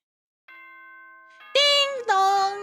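Chime before an announcement in the Danganronpa video game: a soft sustained tone, then two bright, loud ringing chime notes in quick succession, clear and alone.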